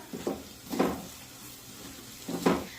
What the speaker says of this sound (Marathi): आता हे मसाले छानपैकी परतून घेऊया।